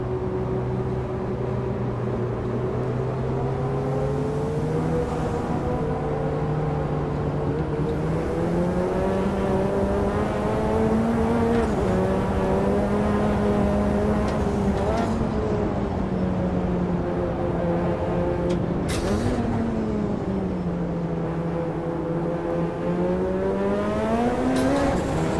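A race car engine in the Automobilista 2 racing game with a new GTO mod, droning loudly and steadily for the whole stretch as the revs rise and fall through several gear changes, with no talk.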